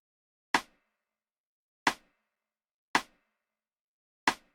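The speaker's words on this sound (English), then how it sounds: "I used 5 snares and I just combined snares and rims to make this particular pattern" Afroswing snare and rim hits, five layered snares combined with rimshots, landing as four sharp, bright, identical strikes at a steady, spaced-out rhythm with quick decay and silence between each.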